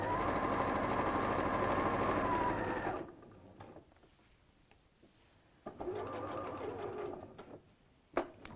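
A sewing machine top stitches a seam on a colour block dress in a loud, fast, steady run of needle strokes. It pauses, then runs again more briefly, and a sharp click comes near the end.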